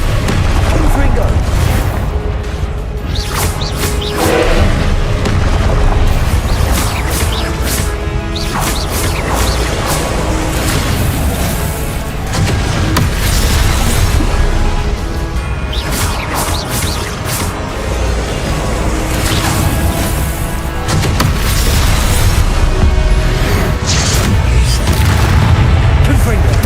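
Repeated fire-spell blasts from Hogwarts Legacy boom one after another over a dense, loud game soundscape, with deep low-end thuds and crackling bursts recurring throughout.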